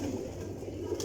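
Pigeons on a rooftop make a brief, low, throaty cooing murmur, soft and steady over a faint background hum, with no voices.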